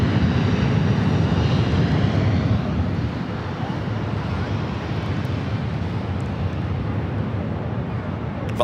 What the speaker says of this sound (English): Next arrival is Alaska SkyWest flight 3306, coming in from Santa Rosa,